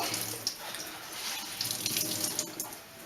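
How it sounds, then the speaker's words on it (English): Water squeezed by hand out of cooked, grated cauliflower over a sink, a steady close trickle and splatter of liquid with small drips, running alone for about three seconds. "we are gonna squeeze all the water out of the cauliflower"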